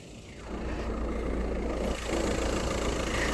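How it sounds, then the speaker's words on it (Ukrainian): A 2003 Volkswagen Golf V engine idles steadily and evenly nearby, a continuous low rumble that rises slightly in level partway through. "Мотор працює рівно, стабільно, справно"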